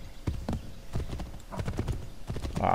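Hoofbeats of a horse galloping in Assassin's Creed III, a steady rapid clip-clop rhythm of thudding strikes close up, with a brief whinny-like sound near the end and no talking over it.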